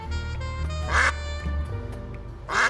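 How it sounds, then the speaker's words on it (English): Two cartoon duck quacks from the Duck Detective video game, each a short bright burst about 1.5 seconds apart, heard over steady game music. "these games star a duck. You can make him quack"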